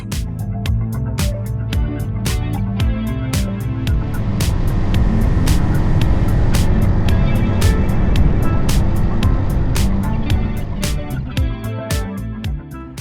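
Suzuki GN 250 motorcycle riding in cold weather, a steady, loud engine drone with rushing wind that stays constant throughout, punctuated by sharp rhythmic clicks or taps, with no voices.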